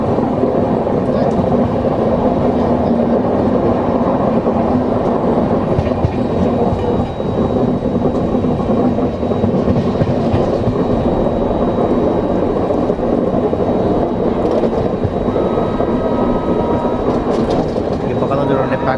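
Pawan Express train rumbling along the rails between Varanasi and Jayanagar after leaving Ghazipur City, a loud, steady roar with faint rhythmic clatter running throughout, with people talking over it.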